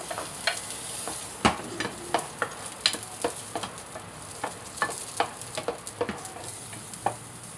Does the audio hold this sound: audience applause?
no